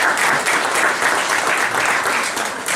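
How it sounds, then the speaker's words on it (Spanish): Applause for a guest at a gathering in Stockholm with Ecuadorian assembly candidates, a loud continuous patter of many hands clapping that holds throughout with slight swells. "Un aplauso también para él."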